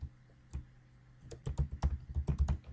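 Typing on a computer keyboard, with a few isolated key taps followed by a quick, dense burst of clicking keystrokes, close and clear with no talking.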